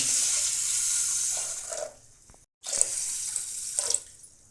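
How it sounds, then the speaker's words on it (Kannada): Water pours steadily into a pressure cooker holding horse gram, stops for a moment, then resumes with a gurgling stream. "ಇವಾಗ ನೀರು ಸೇರಿಸ್ಬಿಡೋಣ."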